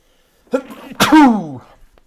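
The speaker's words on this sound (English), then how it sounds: "I'm going to sneeze." A single close, sharp human sneeze with a brief intake of breath before it, in an otherwise quiet setting.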